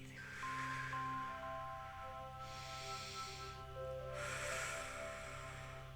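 Two long, airy breaths taken during a yoga stretch, a slow inhale and exhale each swelling and fading, set against soft sustained background music.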